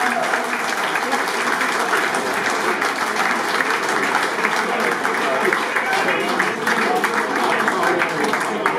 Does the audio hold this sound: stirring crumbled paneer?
no